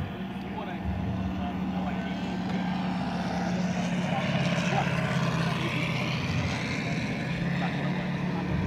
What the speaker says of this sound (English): We got a big twin turbine A-10 Warthog getting ready to take off.